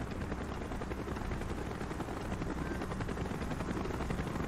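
A helicopter circles overhead in Call of Duty Black Ops, a steady, dense rotor chop and engine drone that stays even and moderately distant throughout.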